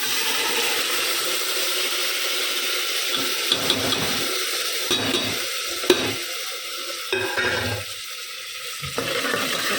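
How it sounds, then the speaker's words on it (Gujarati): Potatoes tossed into a hot pan for veg pulao sizzle loudly and steadily, with scraping stirring strokes and brief clatters over a constant frying hiss, close and without talk. "ચલો આપણે હવે આપણે નાખી દઈએ બટેટા"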